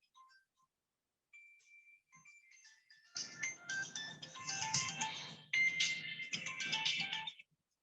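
A phone ringtone plays a bright melodic tune, starting softly with a few sparse notes and then swelling into a louder, busy chiming melody for several seconds.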